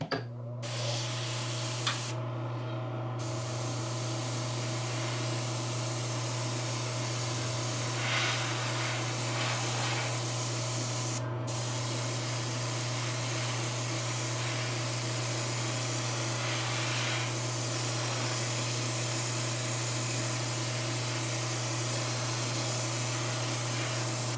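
An airbrush sprays thinned Citadel paint in a continuous, steady hiss with a constant low compressor hum underneath, and brief pauses early on.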